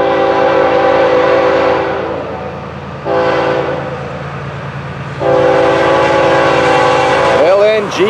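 An FEC 121 freight train with LNG-powered locomotives passes nearby at a junction. Loud sustained engine rumble with horn blasts breaks and resumes, and a voice speaks briefly near the end.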